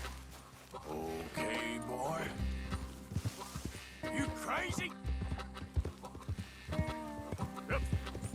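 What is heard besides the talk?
horse hooves clip-clop in Red Dead Redemption 2 video game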